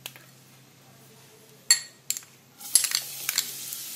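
A ground masala of dry grated coconut, garlic and ginger is stirred in a pan; after a quiet start, a few sharp spoon-on-pan clinks break in, then a soft sizzling scrape with more light clinks toward the end.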